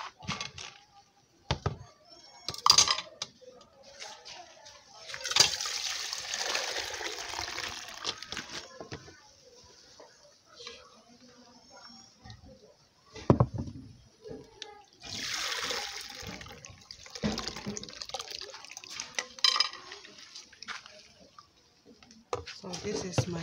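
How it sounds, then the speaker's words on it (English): Water draining and splashing as soaked chili peppers are sieved, with bursts of pouring and trickling under occasional talk, fairly close. "I want to sieve the water out."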